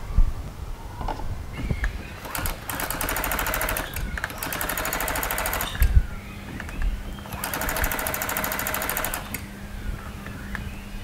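A sewing machine runs to stitch a seam on a pair of shorts, whirring in two sustained bursts with pauses between them, close and fairly loud with faint mechanical clicks.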